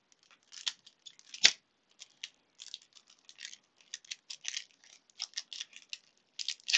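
Quiet, close snips and scraping as scissors cut open a trading card box package, in short irregular clusters with one sharper crunch early on.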